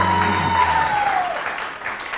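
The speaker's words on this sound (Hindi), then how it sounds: "सलमा आसिम के लिए बहुत सारी तालियां सलमा आसिम के लिए" Studio audience applause on a Pakistani TV One morning show: a steady patter of many hands clapping, moderately loud, with a sustained tone sliding downward beneath it, fading a little toward the end.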